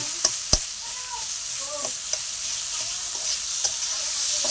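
Stuffed kakrol is stirred and fried in a pan, producing a loud continuous sizzle broken by a few sharp utensil knocks and scrapes.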